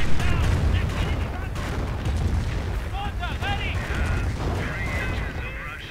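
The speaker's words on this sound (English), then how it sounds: "Mortar survives the Calliope barrage" A Calliope rocket artillery barrage in Company of Heroes, a dense rolling series of booms and launches with whistling streaks, sustained throughout under a commentator's voice.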